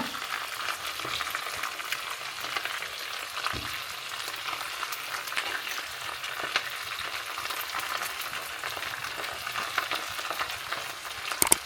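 Cooked rice tossed and stirred into hot oil for homemade chicken mandi, a steady crackling sizzle with scraping stir noises running throughout, close and fairly loud, no voices.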